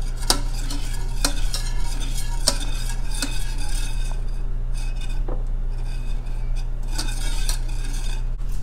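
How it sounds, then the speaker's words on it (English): A spoon stirs a no-egg vanilla ice cream mixture in a bowl by hand, with steady scraping and repeated close clinks of metal against the bowl. "So just stirring at this point."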